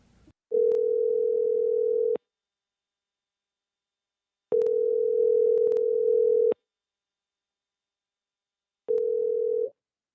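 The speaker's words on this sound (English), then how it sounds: "Nervously, I decided to call Summer to see what the holdup was" An outgoing telephone call with a steady electronic tone repeating in three long pulses separated by silent gaps, clear and close, no one speaking.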